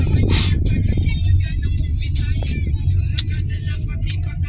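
Busy road traffic with cars and buses passing, a steady loud rumble of engines and tyres close by, with a few brief whooshes and hisses over the continuous din.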